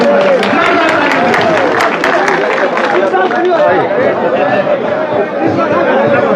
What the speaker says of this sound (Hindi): मैं चाहूंगा एक बार जोरदार तालियों के साथ स्वागत करें सभी